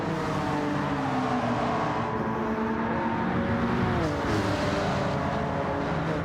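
Honda and Porsche race cars in Gran Turismo 7 snarl together, engines revving with shifting pitch and dipping as one pulls through, loud and continuous.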